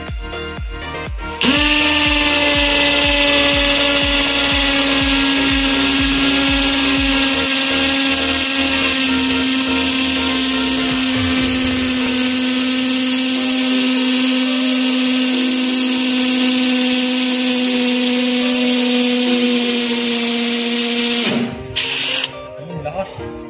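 An INGCO lithium-ion cordless impact drill whirs steadily at high speed for about twenty seconds, a bright sustained motor whine that starts abruptly, holds its pitch and cuts off near the end, loud and close with a few clicks after.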